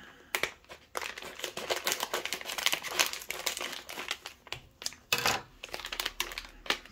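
Plastic packaging around a set of RGB light strips being cut open and unwrapped, giving close, steady crinkling and crackling with sharp snaps and rustles throughout, and no talking.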